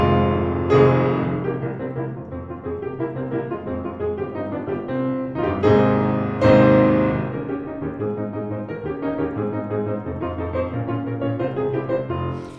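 Piano playing the final page of Beethoven's Appassionata sonata: dense, forceful chords and rapid figures with big accented strikes near the start and middle, sustained and ringing, played alone.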